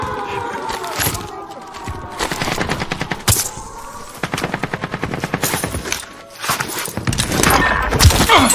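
Rapid automatic gunfire in Call of Duty Warzone, repeated bursts of sharp close shots mixed with clanks and footsteps, with game voices heard between volleys.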